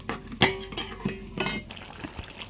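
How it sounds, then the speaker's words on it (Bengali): A metal lid comes off a pot of chicken cooking on the stove with two sharp, close metallic clanks and a few lighter clinks, followed by soft bubbling from the pot. "এবার একটু ঢাকনাটা তুলে দেখে নেব কতটা কী হলো"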